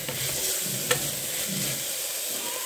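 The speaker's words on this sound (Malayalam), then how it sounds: "ഇതിലേക്ക് ഇഞ്ചിയും വെളുത്തുള്ളിയും പേസ്റ്റ് ഇട്ട് കൊടുക്കാണ് ഇനി ഇതങ്ങ് വഴറ്റി കൊടുക്കാം" Ginger-garlic paste sautés in an oiled pressure cooker for an egg biryani, giving a steady, close sizzle with a clear scrape of a stirring spoon against the metal, and no voices.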